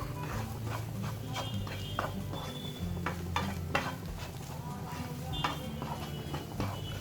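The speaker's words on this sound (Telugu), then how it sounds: "మసాలా టేస్ట్కి సరిపడా సాల్ట్ కూడా వేసుకొని ఒకసారి మిక్స్ చేసుకుందాము" Spice masala stirred together with salt in a pan for a Telugu brinjal curry, with soft scraping and light clinks of a spoon against the pan over a low hum, fairly faint and close.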